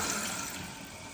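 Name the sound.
water running into toilet tank through fill valve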